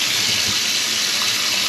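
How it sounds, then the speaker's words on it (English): Hot water from the tap runs steadily into a plugged kitchen sink, a continuous close hiss and splash with no voices. "the hot water starts to run and then washes it all down"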